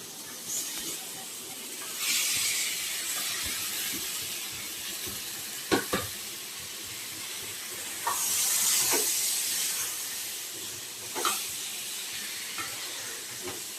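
Chicken and tomato cook in a green gravy, producing a steady hiss and sizzle that swells at times, with a few sharp clinks of utensils against the pan.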